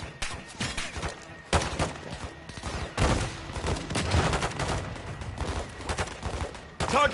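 Dense, rolling bursts of gunfire from an aerial gun run in Modern Warfare 2, loud and sustained with heavy impacts and rattling automatic fire across the whole stretch.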